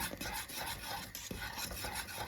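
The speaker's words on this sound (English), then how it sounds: "put 100 grams of desiccated coconut and quickly begin to stir until completely thickened" Desiccated coconut stirred into a thickening cream base in a pot, a continuous close scraping and rubbing of the utensil against the pan with rhythmic strokes, no talk.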